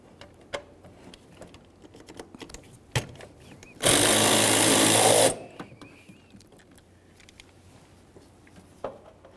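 A power tool buzzes in one loud, steady burst of about a second and a half while an 8 mm bolt on a Ford Ranger blower motor resistor is backed out, with scattered light clicks and taps around it.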